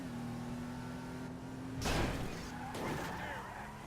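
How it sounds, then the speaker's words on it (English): Car in Grand Theft Auto V speeding and slamming into a wall, a steady engine drone broken by a loud crash and then a second impact, with talk over it. "Now we're gonna get up at a high rate of speed and run it right into that wall"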